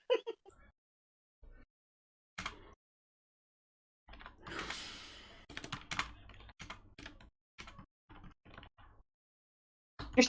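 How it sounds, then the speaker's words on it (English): Someone types on a computer keyboard in scattered bursts of clicking keys with gaps between them, plus a few louder knocks or shuffles, close and fairly quiet. "I'm typing"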